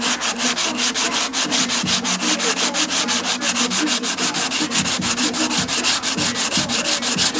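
A car body panel coated with guide coat is sanded by hand, with rapid, regular back-and-forth rasping strokes, close and loud, continuing steadily throughout.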